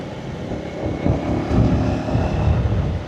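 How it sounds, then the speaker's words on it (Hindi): A motorbike climbs a mountain valley road in fourth gear at just over 50 km/h, its engine a steady drone buried under heavy wind rush against the microphone. "चौथी गियर लगी है भाई इतने समय के बाद, और बाइक गई है 50 से ऊपर"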